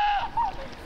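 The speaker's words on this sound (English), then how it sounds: "someone is filming this goat making this noise." A single short goat bleat, a wavering nasal cry heard close up, lasting under a second.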